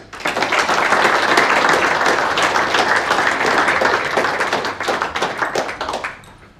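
Dense, loud applause from an audience at a sports awards ceremony honoring award winners, sustained clapping that holds steady for several seconds before tapering off near the end.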